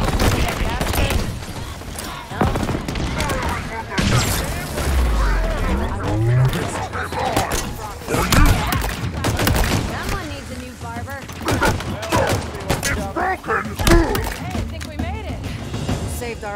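In a Halo Infinite campaign firefight, sustained rifle fire and bursts of shots mix with explosions and battle noise, with voices talking over the dense, continuous combat throughout.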